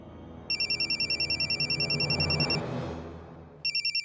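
A mobile phone rings with a repeating electronic trill in bursts, cutting off partway through and starting again near the end, fairly loud over a quiet indoor room in a comedy serial scene.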